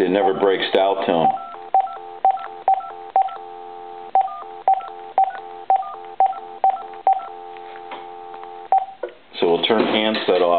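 Beeping DTMF keypad tones on an AT&T SL82418 cordless phone sound in a quick regular series over a steady dial tone, with a person talking just before and after.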